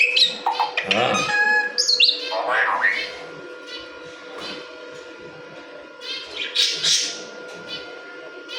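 A myna bird gives loud squawks and chirps up close, in bursts across the opening seconds and again later, over a low steady background hum, with a person talking nearby.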